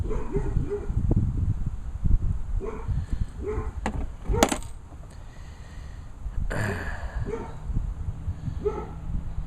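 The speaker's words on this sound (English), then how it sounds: "My dog is chasing cats." A dog barks and yips in short, scattered bursts while chasing cats outdoors, some barks close and sharp, others quieter, over a steady background hiss, with no talking.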